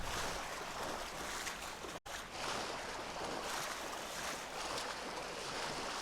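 Swirling whirlpool water churns steadily in the fantasy game Kingdoms of Amalur, a continuous rushing, surf-like wash with one brief dropout partway through.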